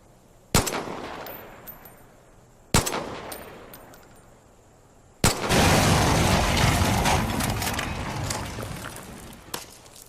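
Gunfire in Far Cry 5 aimed at a cult shrine: two sharp single shots a couple of seconds apart, then a sustained loud burst of shooting and crashing debris that slowly tapers off.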